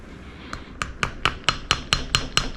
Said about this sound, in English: I'm using a carpenter's hammer.